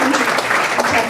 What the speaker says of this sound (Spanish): quisiera pedir un fuerte aplauso por el lado de Hipólito